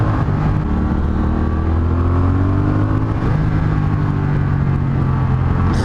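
A Triumph Thruxton 1200 motorcycle engine revs on a test ride, loud and close, with a steady drone whose pitch climbs and falls, over wind roar.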